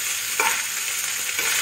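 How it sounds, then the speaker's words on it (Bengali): Leftover rice stir-fried in a pan as bhaat bhaja, giving a steady close sizzle with brief louder scraping strokes of the spatula, no voices. "এটা যা ভাজা ভাজাই করছি ভাত ভাজার মতো"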